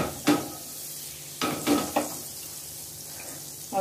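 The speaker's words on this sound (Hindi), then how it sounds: "सबसे पहले कढ़ाई बिठा लेंगे और इसमें आप थोड़ा सा बटर डालेंगे" A little butter melting in a hot kadhai for a dry red chilli and cumin tempering gives a soft, low sizzle, broken by a few sharp taps and scrapes of a utensil against the pan.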